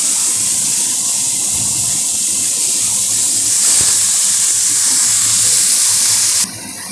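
Washed coriander leaves frying in a little oil in a kadai give off a loud, steady hissing sizzle that cuts off abruptly just before the end.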